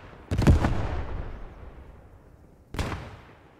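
Two grenade explosions in the video game Post Scriptum, set in a British defense at Etreham: a loud, close blast with a long rumbling decay, then a second sharp burst nearly two and a half seconds later, with no talk.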